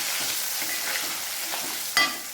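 Banana chips sizzle steadily in hot oil after salt water is poured in, with a continuous close frying hiss and a brief sharper crackle burst near the end, no voices.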